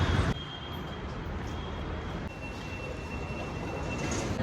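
A Bengaluru metro train at a station gives a steady, close rumbling roar with a thin high whine running through it, continuous for the whole stretch after a sharp onset.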